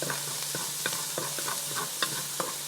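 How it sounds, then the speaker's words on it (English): Haitian epis seasoning frying in a pot, a steady close sizzle with occasional stirring scrapes and soft clicks of a utensil against the pot, no voices. "add that Epis and fry this Epis until it's a nice"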